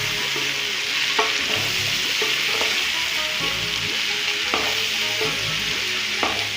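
Whole cumin seeds sizzle in hot oil for potato bhujia, a loud continuous hiss broken by periodic spoon clinks and stirring scrapes against the pan, with no talking.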